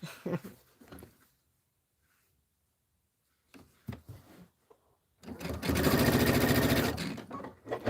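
A sewing machine runs a steady rapid stitching burst for under two seconds while a quilt border is sewn together, with a person talking briefly before and after the machine.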